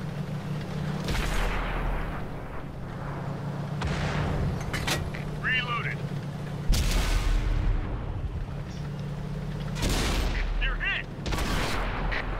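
Weapons fire on a target in a combat video game: repeated heavy booms and blasts at intervals over a steady rumbling engine drone, with brief whistling effects between shots.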